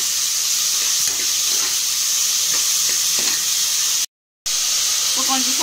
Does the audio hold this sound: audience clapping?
no